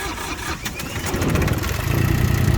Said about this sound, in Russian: Давайте запускать.